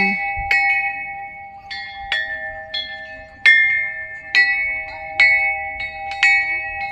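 A Thai temple bell rings repeatedly with clear metallic strikes, each leaving a long sustained ringing tone that blends with the next.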